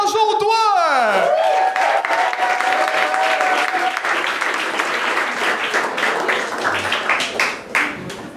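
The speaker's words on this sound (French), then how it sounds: "un tonnerre d'applaudissements pour Christian Jaudoin!" An audience at a televised talent show bursts into applause, with loud, dense clapping and some cheering filling the room, tapering slightly toward the end; an announcer's voice rings out at the start.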